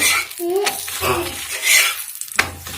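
Spinach paratha cooking in oil in a hot pan, with a steady sizzle broken by a few close scrapes and clinks from a utensil against the pan.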